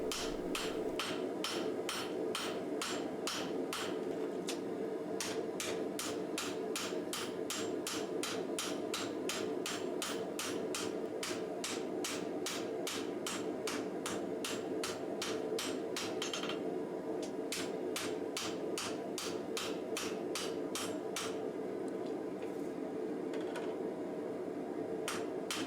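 Rapid, regular hammer blows forging the sunobe of a hand-forged katana blade, bright metallic strikes in long steady runs with a short pause midway, ringing over a low background hum.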